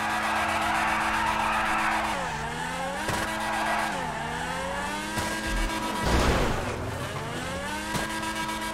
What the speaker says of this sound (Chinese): WS 原地烧胎啊